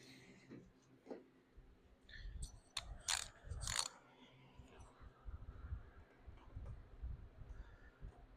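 A socket wrench tightening a bolt in a headlight well gives a few faint, close bursts of ratcheting clicks, with clunks and rustling in between and a voice talking over part of it.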